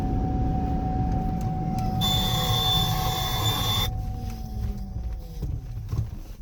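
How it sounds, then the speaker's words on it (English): The brakes on a 7,500-pound truck squeal under a hard stop, a high, steady whine lasting about two seconds over loud rumbling road and engine noise. "If you hit the pedal too hard, it starts squealing."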